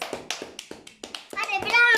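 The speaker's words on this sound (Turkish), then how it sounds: "Hadi Yağız'ı alkışlıyoruz arkadaşlar" Children clap for a boy named Yağız during a home game of Afacan Haydut with his cousins: a scattered burst of light, uneven claps close by, mixed with excited children's voices.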